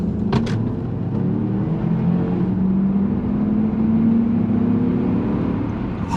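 A 2006 Jeep Commander's 5.7-litre Hemi V8 rises steadily in pitch as it accelerates hard toward 55 mph, a loud sustained roar building over several seconds, with a brief click near the start.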